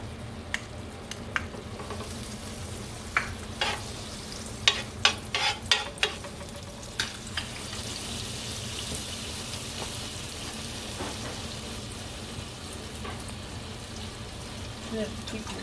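Spinach fries in butter in a pan, a steady low sizzle with a cluster of sharp utensil clicks and pops early on, then a quieter continuous hiss.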